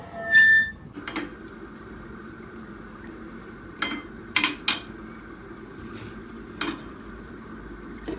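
A metal lid clatters onto a pot of squid and drumstick curry, a few sharp clinks and knocks spaced apart over a quiet, faintly bubbling background.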